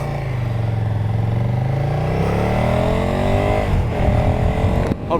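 A 2017 KTM 1290 Super Duke GT rumbles loudly and close while crawling through a parking lot, its engine note rising and falling with throttle blips, no talk.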